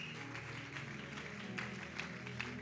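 A church congregation applauds during an evening worship service: steady, dense clapping close by that lasts the whole moment, over sustained organ or keyboard chords.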